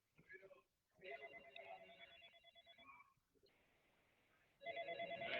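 A telephone rings with a tonal electronic ringtone in two bursts, clear and fairly close, partly overlapping with people talking in a room.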